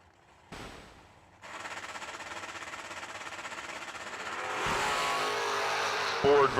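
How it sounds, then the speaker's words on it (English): A Ford Mustang and a Chevrolet Copo Camaro launch off the line at a drag strip, a sudden loud burst of rapid, rattling engine roar that holds steady and then swells further, with a track announcer talking over it. "Ford versus Chevrolet, the Mustang off and running"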